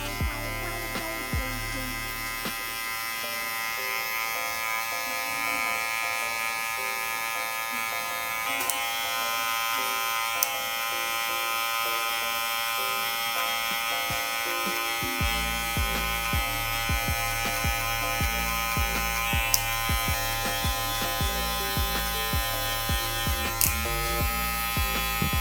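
Electric hair clippers buzz continuously and close up while cutting a fohawk mid fade, a steady electric hum that shifts in pitch partway through as the blade lever is opened and the clippers are worked through the hair.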